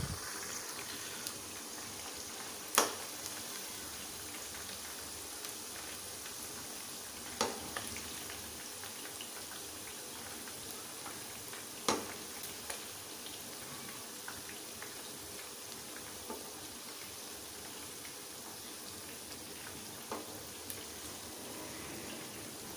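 Chicken pieces frying in oil for a Peshawari charsi karahi give a steady, even sizzle with occasional sharper pops and crackles spaced through it.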